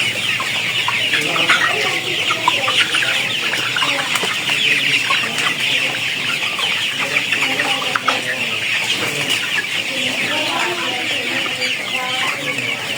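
Tiger-breed chickens at a poultry farm in Jhenaidah, Bangladesh, cluck and chatter continuously in a busy, overlapping chorus, close and fairly loud, with occasional sharper calls and brief wing flaps.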